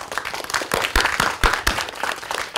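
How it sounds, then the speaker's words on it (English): An audience at a university disability studies talk applauds graduate student volunteers, with steady clapping of moderate loudness that has a few sharper claps rising above it, lasting a couple of seconds. "can we just give them a round of applause?"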